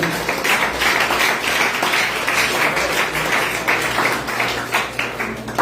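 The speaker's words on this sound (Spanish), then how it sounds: "Den un aplauso, Señor." A church congregation applauds at length: dense, steady clapping at moderate loudness with no break, and faint voices beneath it.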